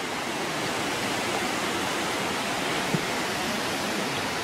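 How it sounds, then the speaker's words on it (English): After rain, water rushes down a stream along the Appalachian Trail, a loud, steady broadband roar close by with no break, and no voices. "There's a lot of water coming down. It's been a bit of rain and it's going down there."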